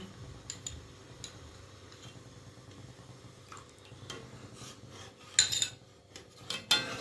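A spoon stirs cornflour slurry into orange juice in a pan for jam, making faint scattered clinks and scrapes of metal against the pan, with a couple of louder knocks near the end.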